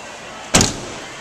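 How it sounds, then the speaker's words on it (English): The rear door of a Jeep Grand Cherokee WK shuts with a single sharp, close thud and brief rattle, then quiet. "once the door is shut in the back"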